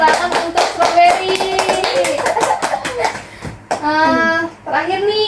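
Children clapping in applause for a classmate during a school counseling lesson about bullying, a brief burst of many hands with a voice and talk rising over it toward the end.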